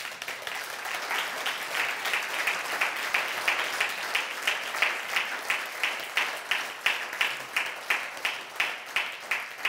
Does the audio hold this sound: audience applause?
yes